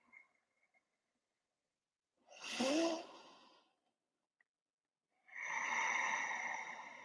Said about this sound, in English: breathe in fully and exhale fully